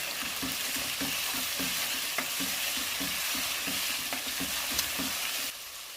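White pepper being stirred into chicken karahi in a pan: a loud, steady sizzle with a regular, quick rhythm of spatula strokes scraping the pan, close up, easing off in the final half second, no voices.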